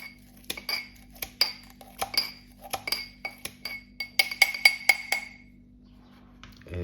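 A knife chops fresh parsley on a board for vegan mushroom pasta, giving a close run of crisp, ringing taps in an uneven rhythm that quicken into a flurry before stopping.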